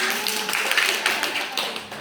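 A group claps together during a teachers' peer-sharing session, a dense run of overlapping hand claps held at steady loudness for the whole stretch, close and lively.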